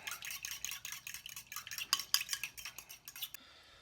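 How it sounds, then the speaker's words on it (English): A fork whisks Dijon mustard in a small dish with quick, rapid scraping clicks close by, building in intensity, then stopping abruptly near the end. "Whisk this up."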